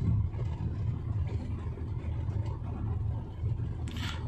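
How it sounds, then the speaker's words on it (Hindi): A Ford EcoSport engine hums low and steady while driving with light acceleration, a soft rumble with slight rises, no voices. "हल्की सी बस इंजन की आवाज़ आती है।"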